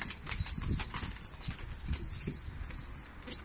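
Several birds flap their wings in a flurry while squabbling over feed, a continuous close fluttering with faint chirps.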